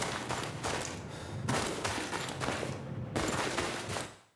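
Running footsteps in a video game, given a tight small-room reverb, land as loud, rapid, closely spaced thuds over a constant wind-like noise bed.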